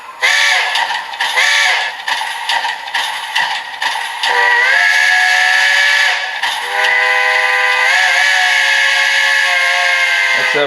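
A TCS WOW Heavy Steam model train decoder plays its steam whistle: a run of short, choppy toots at first, then two long sustained blasts with a hissy edge, loud and close with no voices.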